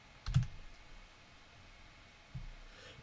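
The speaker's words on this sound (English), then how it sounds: "I'm gonna hit the number three key on my keyboard to go to layer three." A computer keyboard key is pressed twice, each a soft, close tap separated by about two seconds in an otherwise quiet room.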